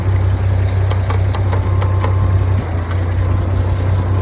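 An old farm equipment engine idles steadily while warming up, a loud continuous low rumble with a faint rhythmic knock and a few ticking clicks, close up and alone.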